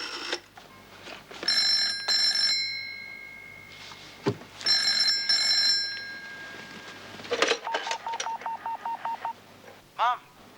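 A telephone rings in repeated electronic bursts, then a run of short dial tones follows, all fairly clear in a quiet room with no talking over it.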